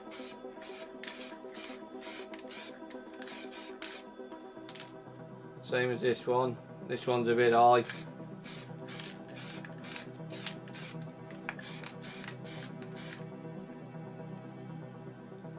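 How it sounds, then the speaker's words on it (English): MTN water-based spray paint sprayed lightly around lid stencils in short hissing bursts, with a person talking in the middle. "So I'll just spray lightly around the lid stencil."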